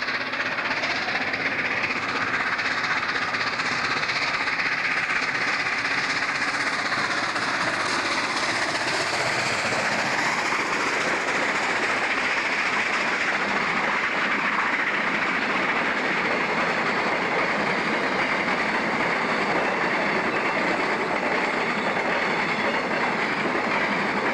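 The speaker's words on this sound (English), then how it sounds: "Let's start the story of these dedicated steam drivers with Johan Hanicombe and the Red Devil, already past Potfontein and seen here at Hout Kraal." The Red Devil steam locomotive runs past at Hout Kraal in the Karoo, between Kimberley and De Aar, with a steady, loud roar of steam exhaust and rolling wheels that continues unbroken for more than twenty seconds.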